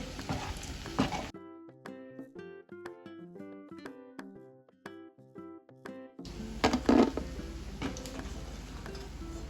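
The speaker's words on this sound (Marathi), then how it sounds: "आता पहा डीप फ्राय झालेला आहे" Chicken deep-frying in hot oil for crispy chilli chicken, a dense crackling sizzle at the start and again at the end, with a stretch of music filling the middle.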